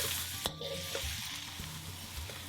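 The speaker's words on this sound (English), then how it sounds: "Now throw in the garlic and ginger paste and cook that for around 1 minute." Garlic and ginger paste frying in hot oil in a pan for a beef madras, a steady close sizzle with a few sharp clinks and scrapes of stirring and no talking.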